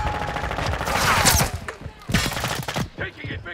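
Rapid automatic gunfire and explosive bursts in Call of Duty: Modern Warfare II multiplayer, loud fusillades broken by short pauses, with sharp cracks clustered near the start and middle and shouted callouts mixed in.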